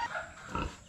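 A goat with a lame leg bleats once in a short, fairly loud call close by, with no talking over it.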